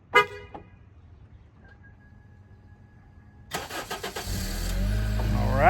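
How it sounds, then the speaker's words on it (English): A Honda Accord fires up by remote start after a short horn chirp, the engine catching with a rising crank and then settling into a steady idle heard from outside the car, fairly close. "Remote start is working."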